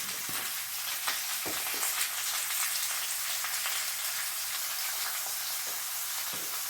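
Thin Maxwell Street–style pork chops fry in a hot pan with a steady, even sizzle. Soft crackles and pops keep going through the whole stretch, with no talking.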